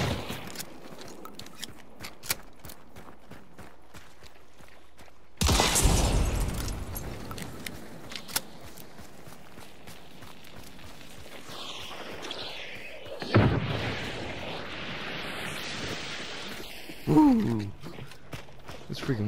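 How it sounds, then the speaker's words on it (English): Explosions from wax bombs in a zombie video game: three loud, booming blasts, each with a rumbling tail, spaced several seconds apart over a low background, with faint clicks between them. "Freaking wax bombs are no joke."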